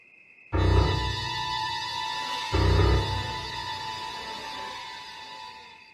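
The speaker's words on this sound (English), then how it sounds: "whenever a burglar comes into your house, the danger theme plays, and it sounds like this." A tense electronic music cue from a video game, the danger theme when a burglar enters the house, with sustained tones that swell in at once, surge again midway, then slowly fade away.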